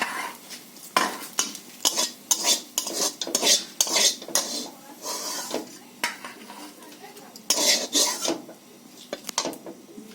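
A spoon scrapes and stirs fried eggs into a spice masala in a pan, giving repeated metallic scrapes and rubs with a faint sizzle, close and uneven in rhythm.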